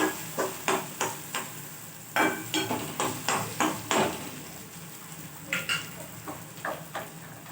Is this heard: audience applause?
no